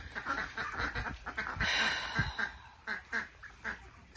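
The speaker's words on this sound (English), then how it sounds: "hearing the duckies back there, maybe you'll get to see them." Several ducks quack outdoors in a natural setting, a series of short, fairly near calls in irregular bursts over soft background ambience, with no talking.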